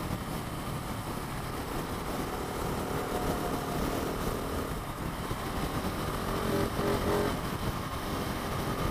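A Husqvarna 701 motorcycle runs flat out at top speed, its engine a constant loud roar blended with heavy wind rush that holds steady without letup.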